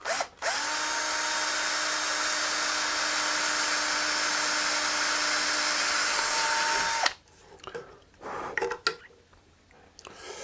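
A small 1.5 mm bit spins in a power drill at a workshop bench while a guitar headstock inlay is cut, giving a loud, steady high whine for about seven seconds that stops abruptly, followed by faint handling clatter.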